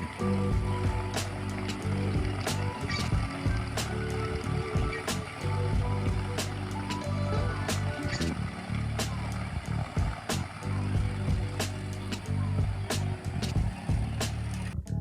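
A boat engine drones steadily on the Khwae River at Sai Yok, Kanchanaburi, with repeated sharp knocks and clatters over the low hum, heard up close.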